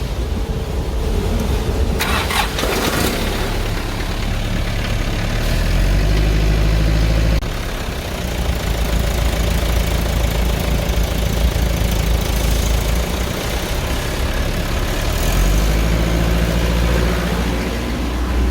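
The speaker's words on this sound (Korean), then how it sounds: "엔진 시동을 걸고" A heavy diesel tanker truck engine turns over and settles into a steady, loud idle, low rumbling throughout with brief bursts of revving.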